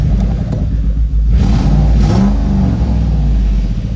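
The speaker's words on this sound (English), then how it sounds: "Yeah, let's give it a rev." A Ford 4.6 V8 with a Teksid block revs hard in one sustained burst, loud and close, its engine note climbing and holding with no talking over it.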